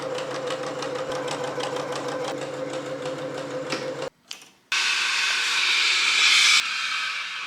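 A sewing machine stitches a blouse bodice along 1 cm seams, running in a steady continuous whir for about four seconds, then after a brief pause resuming as a louder, hissier motor drone.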